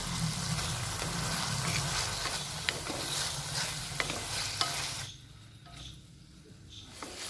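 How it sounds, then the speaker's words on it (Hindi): Green peas and tomatoes frying in a pan for moong dal vegetable khichdi, a steady close sizzle with light stirring scrapes that drops to a quieter hiss for the last couple of seconds. "हमारी मटर भी भुन चुकी हैं और टमाटर भी।"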